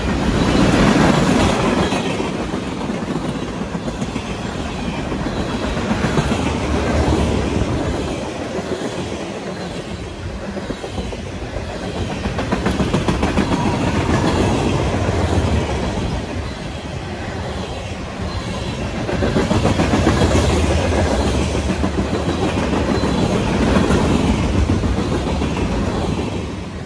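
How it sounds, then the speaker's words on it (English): Train in the mobile game Train Simulator 3 running along rails, a steady rumbling roll with repeated clickety-clack wheel beats that swell and fade over about half a minute, with no talking. "here's a clip from one of my new favorite mobile games. This is Train Simulator 3."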